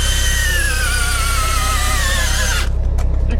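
A power drill cranks down a binder on equipment at a farm dump-pad build, giving a loud, close, steady motor whine whose pitch sags slightly under load before it cuts off abruptly near the end.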